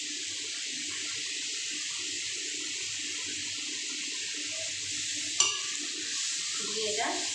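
Spices for a fish curry of tomato, ginger, turmeric, Kashmiri chilli, cumin and coriander sizzle steadily in a pan, then a small splash of water goes in with a sharp hiss and a brief burst of bubbling.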